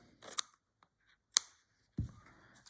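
Scissors rough-cut a flower petal shape from material for a slow-stitched hydrangea. A few separate crisp snips come close and sharp with short quiet gaps between them, and one duller thump follows.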